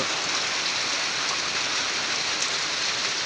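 Rain falling steadily over a rice-field area, a dense, even hiss of drops that continues without a break, close and moderately loud, with no voices.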